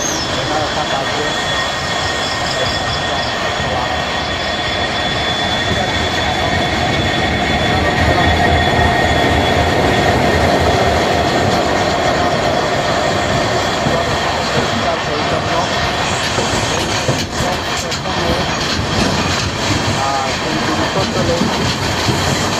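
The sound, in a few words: Guwahati Sairang Express train running on rails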